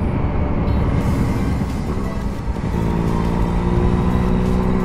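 Yamaha MT-09 inline-three motorcycle engine revving with its exhaust, a loud, dense, continuous roar that swells and dips slightly, heard close with no talk.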